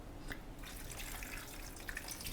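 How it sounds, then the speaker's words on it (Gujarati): A glass of water is poured into potato curry, a soft continuous splash and trickle heard close and fairly faint, with no talk over it. "એક ગ્લાસ પાણી નાખી દઉં છું"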